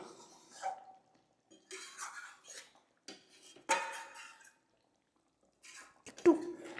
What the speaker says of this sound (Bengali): কড়াইয়ের গা থেকে আমি এটুকে নামিয়ে দিচ্ছি